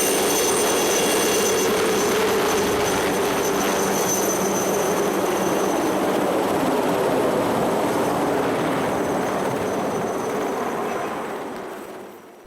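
A rescue helicopter hovering over a steep mountain slope in the Mont Blanc massif, a loud, steady rotor and turbine roar holding for most of the stretch before fading slightly at the end, with no voices.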